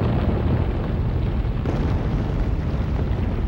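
A supernova explosion sound effect: a loud, sustained, rumbling roar heavy in low bass, continuous and close, with no talk over it.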